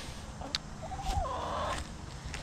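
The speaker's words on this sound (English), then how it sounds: "These are our chickens. There's about 7 of them." Backyard chickens, around seven birds, give a brief, faint run of clucking and a short warbling call against a quiet outdoor background.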